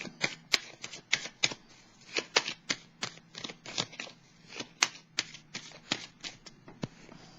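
Tarot cards being handled and drawn from a deck, giving a quick run of crisp, close card snaps and flicks in an uneven rhythm, with no talking over them.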